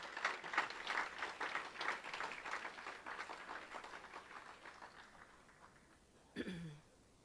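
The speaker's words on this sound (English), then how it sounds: "Now if we'd give them all a nice round of applause for what they do for us." Audience applause at a college homecoming alumni and friends awards program, a moderate round of clapping that tapers off over several seconds before a brief louder burst near the end.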